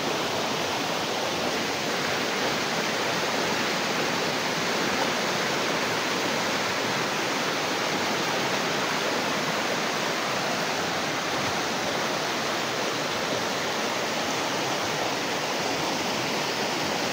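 Creek water flowing in a steady, loud, unbroken rush with a broad hissing wash that never changes over the whole stretch, close by and heard alone.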